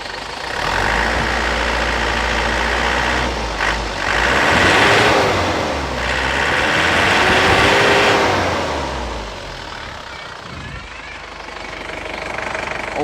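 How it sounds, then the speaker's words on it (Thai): A pickup truck engine runs loudly and steadily, its pitch rising and falling a few times as it is revved, then settling back toward idle. "ลองเร่งเครื่องดู"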